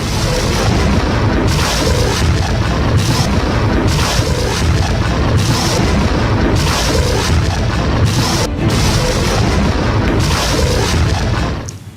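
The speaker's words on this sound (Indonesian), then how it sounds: "Rentetan roket-roket terus menggempur pasukan Zionis Israel." Rocket barrage explosions in war news footage from fighting between Hezbollah and Israeli forces in southern Lebanon: a dense, continuous roar of booms and blasts, very loud and unbroken, with no voices.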